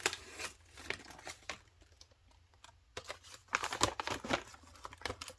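A sticker is peeled from a sticker page up close, with quick crinkling, tearing and papery rustles in irregular bursts, some loud and some brief.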